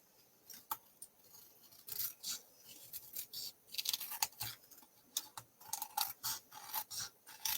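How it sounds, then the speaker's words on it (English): Scissors snipping through the overhanging edge of stamped paper to trim it into a small envelope, a run of crisp close cuts in uneven bursts with no talking. "I'm going to cut all that off for a cute little envelope."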